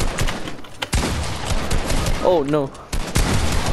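Rapid bursts of gunfire in the video game Fortnite, sharp cracking shots in quick clusters with brief pauses, loud and close, while a person briefly exclaims over the action.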